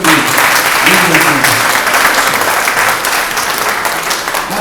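Wedding audience applauding the officiant, a dense steady wash of clapping that stays loud throughout, with a few voices calling out beneath it early on.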